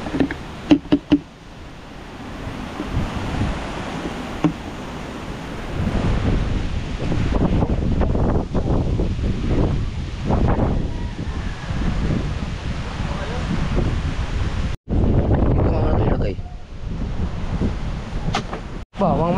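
Strong storm wind at sea buffets a small boat, heavy roaring gusts battering the microphone along with knocks and surging water, loud and close, with voices talking at times.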